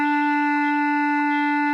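A Bb clarinet holds a single steady note from The Greatest Showman, sustained and even at moderate loudness for under two seconds, played alone.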